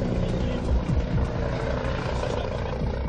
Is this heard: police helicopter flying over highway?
yes